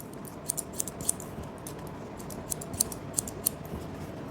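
Barber's scissors snip through wet hair, a series of crisp, close metallic cuts in small clusters over a soft steady background hiss, with no talking.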